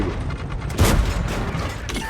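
Artillery fire in a tank video game: a loud broadband blast around the middle of the clip, decaying into a rumbling tail over steady background battle noise.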